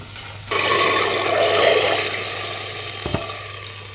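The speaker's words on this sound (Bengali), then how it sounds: "ভাজিটা আমি কড়া করে ভেজে নেব হালকা ভাজবো না" Bitter gourd (karela) frying crisply in a pan: a steady, close sizzling hiss begins about half a second in and carries on, with a brief utensil clink near the end.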